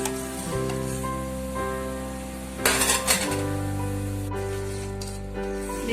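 Raw rice being stirred in a pot on a medium gas flame while making Bengali payesh, with soft scraping and light clinking of the spoon against metal over a steady simmering hiss, and a louder burst of stirring midway.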